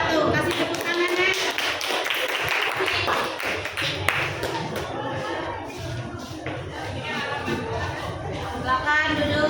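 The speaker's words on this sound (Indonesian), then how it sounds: "Kasih tepuk tangannya." A classroom of students claps for group 4, a dense, steady patter of many hands lasting several seconds, with scattered shuffling and voices mixed in.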